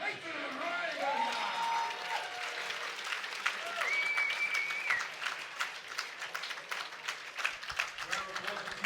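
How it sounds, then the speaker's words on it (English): Arena crowd applauding after a mixed martial arts bout, steady and sustained, with cheering voices and a few whistles rising above the clapping throughout. "Round of applause for Diego Perera for a battle"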